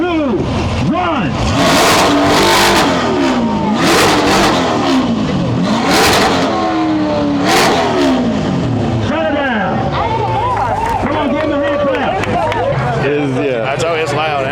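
A Corvette fitted with a LeMans exhaust revs hard at a loudness contest, loud repeated throttle blips rising and falling through the clip, with crowd talk and voices underneath.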